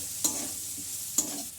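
A ground spice mixture of cumin, chicken curry masala and garam masala stirred and fried in a pan, with a soft steady sizzle and two sharp spoon scrapes about a second apart, heard up close.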